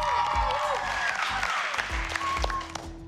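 A studio audience claps and cheers for Team OG, the first dance crew in a family dance contest, a loud burst of applause and whoops over bright backing music with a host's voice mixed in.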